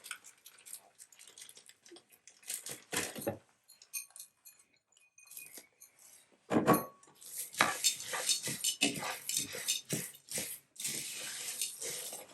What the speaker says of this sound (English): The stove is on, and then you just keep frying it, roasting it